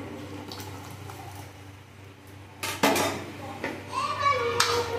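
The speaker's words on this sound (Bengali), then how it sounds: "এই সবজিগুলো দিয়ে দিচ্ছি, সব সবজিগুলো ঢেলে দেবো।" Raw vegetables are tipped into a pot of dal, heard as a sudden clatter and splash against a quiet background, followed by metallic scraping and knocks of a utensil against the pot.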